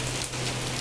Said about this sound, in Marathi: पाऊस तर जोर चालू आहे